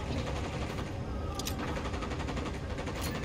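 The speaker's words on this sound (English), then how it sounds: "Opening fire." Sustained bursts of automatic gunfire from a firefight in the video game Ghost Recon Wildlands, dense and continuous, with sharper cracks breaking through the clatter.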